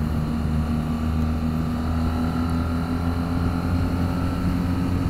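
A BMW R 1300 GS motorcycle engine drones loud and steady while riding with gear shifts, a continuous low rumble and hum mixed with wind noise and no voices.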